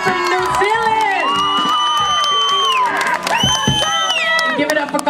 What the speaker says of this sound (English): Y'all give a round of applause for Three Houses Down, all the way from New Zealand